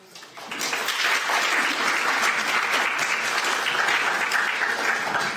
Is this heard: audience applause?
yes